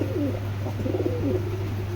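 Giribaz pigeons, a breeding pair in a loft, coo softly and repeatedly in low, rolling phrases over a steady background hum, close by with no talking.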